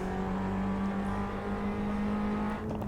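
An Abarth road car in the racing game Assetto Corsa, engine droning steadily on throttle with a strong constant hum and whirring tone, close and continuous without talk.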